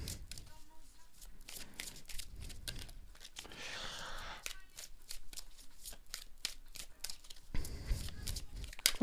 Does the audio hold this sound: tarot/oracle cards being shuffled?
yes